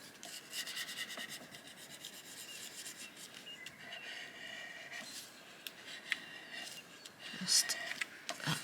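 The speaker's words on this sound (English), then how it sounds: "Give that a little burnish." Paper index card burnished by hand, giving soft repeated rubbing and scraping strokes that come in uneven bursts, with a few brief sharper scratches and quiet background noise.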